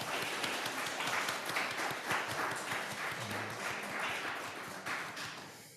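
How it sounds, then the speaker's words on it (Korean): A church congregation at a Sunday service in Darmstadt claps to welcome the people beside them. The applause is moderate and somewhat scattered, with loose individual claps and faint murmuring underneath, running for several seconds. "우리 옆에 있는 분들을 한번 박수로 환영했으면 좋겠습니다"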